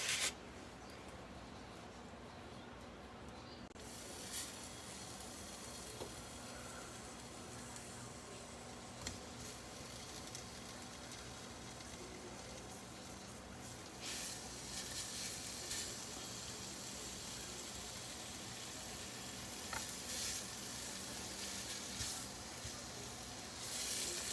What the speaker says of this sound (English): I'm gonna throw some bacon in this pan here